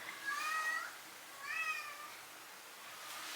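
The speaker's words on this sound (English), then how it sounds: "Did you hear that cat?" A cat meows twice, two drawn-out plaintive cries separated by a short pause, fairly faint against quiet background hiss.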